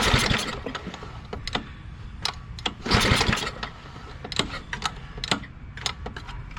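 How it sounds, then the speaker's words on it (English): A 5 horsepower Tecumseh Snow King engine on a 1976 snowblower sputters and catches after a few pulls, then runs unevenly with popping bursts, close by and fairly loud. "It's a 5 horsepower Tecumseh Snow King engine. This is a 1976 snowblower."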